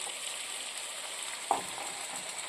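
Fettuccine pasta goes into a pot of boiling salted water. A steady bubbling hiss runs throughout, broken by one soft splash midway, with no one talking.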